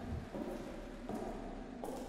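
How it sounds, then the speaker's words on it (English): Rain and rumbling thunder in a dark horror video game, a continuous hiss of rainfall with a few low swells of thunder, steady and moderately quiet with no talking. "Raining and thunderstorm,"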